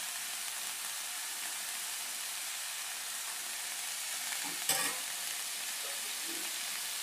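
Aloo dum potato curry simmering in a pan, giving a steady, soft sizzle and bubbling throughout with one brief louder clatter near the end; nobody speaks.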